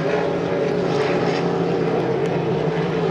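An H350 hydroplane racing boat engine drones steadily and loudly across the Valleyfield race course, a sustained rough buzzing roar that holds without breaks throughout.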